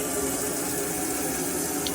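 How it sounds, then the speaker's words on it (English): Cold water tap in a Compass Avantgarde 115 campervan running steadily, a continuous close hiss of flowing water into the sink with no talk. "So if I do that now, over to the cold, lift the tap up."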